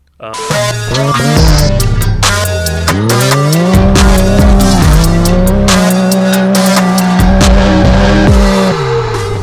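Off-road truck engine revving hard with tires squealing and skidding during freestyle pre-running in the desert, loud and continuous with rising and falling engine pitch and gritty bursts throughout.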